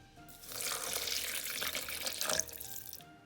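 Warm water is poured into a blender jar over eggs, butter, sugar and dry yeast for homemade panettone dough: a steady splashing pour lasting about three seconds, close and fairly loud, with no talk.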